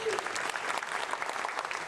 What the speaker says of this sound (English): We got to applaud for that.